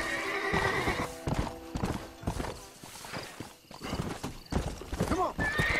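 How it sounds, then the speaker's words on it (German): Rapid hoofbeats clatter in a galloping rhythm, with a horse neighing loudly over them, from the video game Red Dead Redemption. "Los, mein treues Pferdchen."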